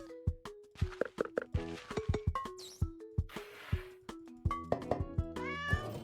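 A cat meowing in an indie video game, a run of short, clear, close meows in uneven rhythm mixed with light tapping game effects, no talking.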